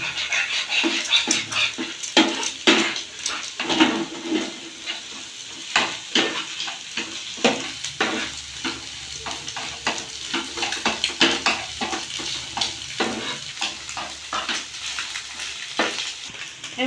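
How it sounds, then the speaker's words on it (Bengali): Eggs salted and stirred in a hot pan for Bengali shop-style chowmein sizzle close by, with brisk irregular scraping and clacking strokes of the spatula throughout. "আমি একটু ভালো করে নাড়িয়ে নেব।"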